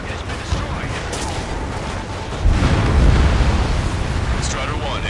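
An armored personnel carrier blows up in the Ace Combat 7 video game, a loud broadband boom that swells midway through and rumbles on amid steady roaring battle noise.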